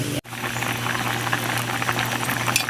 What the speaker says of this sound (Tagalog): Kukulo na siya ulit.